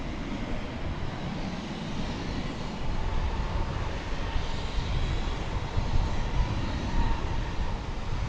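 American Airlines jet at DFW bound for San Antonio, a steady broadband engine roar that builds slightly over time, fairly close and continuous with no talk.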